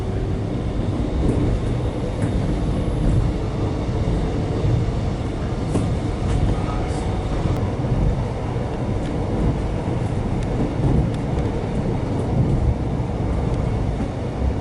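A suburban Melbourne train pulls into an elevated Skyrail station at Croydon, producing a continuous loud rumble and rolling wheel noise heard from inside, steady throughout with no voices.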